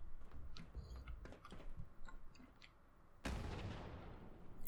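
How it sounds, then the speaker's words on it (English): A sudden grenade blast in Fallout 76 Wastelanders bursts out after scattered faint gunshots, a single loud explosion followed by a rumbling tail. "someone threw a grenade at us"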